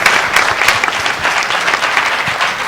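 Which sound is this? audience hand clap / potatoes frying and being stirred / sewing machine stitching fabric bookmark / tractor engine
audience hand clap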